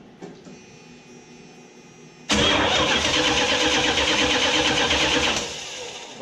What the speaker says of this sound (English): So when it starts, it sounds really long and whiny and dragged out.